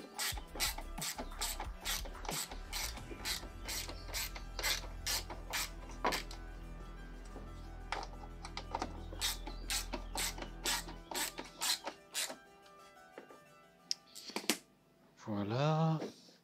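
A ratchet tightens screws on a Nissan 350Z oil cooler kit in a steady train of rapid clicking strokes, close and clear, with a low motor hum underneath; clicking thins out, then someone speaks briefly at the end.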